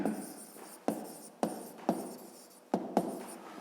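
A pen writes a row of digits by hand on paper, giving soft continuous scratching broken by about six sharp taps as each new stroke begins. The sound is close and quiet, with no speech.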